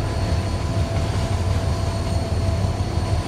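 A train runs along the track in Transport Fever 2, giving a steady, loud rumble of rolling wheels with an even broadband roar and no voices.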